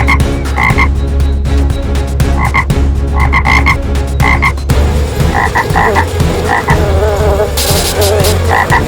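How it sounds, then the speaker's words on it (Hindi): Cartoon frogs croak beside a pit in an animated storytime tale, loud rhythmic clusters of repeated croaks from several frogs, shifting to a denser chorus midway, over a low steady background. "गड्ढे के पास पहुंचकर मेंढक टर टर करने लगे।"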